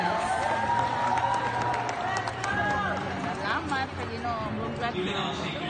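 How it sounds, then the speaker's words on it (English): At a graduation ceremony, an audience claps in sustained, dense applause mixed with crowd murmur, moderately loud and steady throughout, while a voice speaks over it. "We all deserve a big round of applause."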